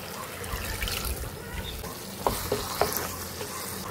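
Water is poured into a pan of chicken kosha curry frying on the stove, producing a faint, steady sizzle and bubbling with a few soft utensil clinks.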